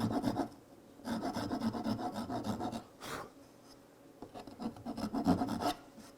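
Hand rasp worked along the edge of a wooden chair, close and steady rough scraping strokes in three long bursts separated by brief pauses, no voices.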